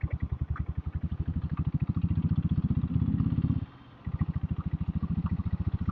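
A diesel Bullet motorcycle engine runs close by in a steady, rapid thumping idle, briefly revving louder before a short dip and returning to its even chugging rhythm.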